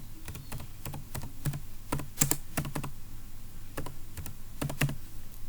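Keys clatter in quick irregular bursts on a computer keyboard while a playlist name is typed, close and fairly quiet, with short pauses between runs of keystrokes and no voices.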